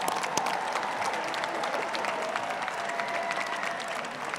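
Sustained applause from a large audience honouring graduates at a university graduate college commencement, a dense steady roar of clapping with faint crowd murmur throughout.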